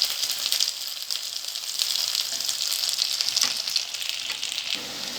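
Steady, crackling sizzle of potato patties frying in hot oil in a pan, close and continuous with no voices.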